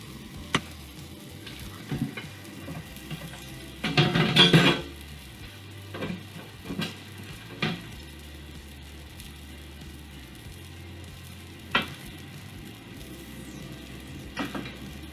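Onions and peppers fry in a pan with a soft, steady sizzle, broken by occasional clatters and scrapes of a utensil stirring them around.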